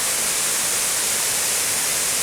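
Water pours down the lower part of a waterfall behind the Douglas Hotel in Brodick on the Isle of Arran, making a steady, close, full roar that never lets up, with no voices.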